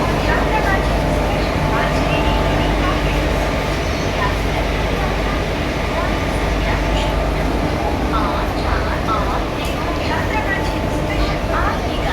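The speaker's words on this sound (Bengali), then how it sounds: "আমি যেই ট্রেনটা এসেছি পাহাড়িয়া এক্সপ্রেস পাহাড়িয়া এক্সপ্রেস" The Paharia Express at Digha station, a steady loud rumble of a train with rolling mechanical noise throughout, and people talking over it.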